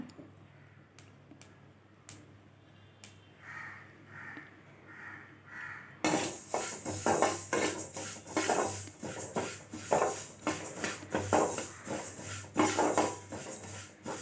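Sesame seeds dry-roasting in a pan for idli podi, with faint scraping at first, then a loud, dense crackle and rasping stir strokes that continue steadily.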